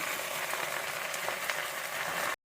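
Gongura leaves sizzling hard in a pan of fried onions, a steady close crackling hiss that runs unbroken and then cuts off abruptly.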